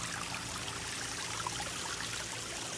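Water runs from a filter into a small backyard cichlid pond, a continuous gentle trickling and splashing at close range, with no talking.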